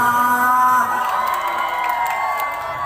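A crowd at a match between Andi Lala's side and Agus Munding's side lets out a loud burst of shouting and cheering, with sustained voiced yells that fade slightly, and a few faint claps beneath.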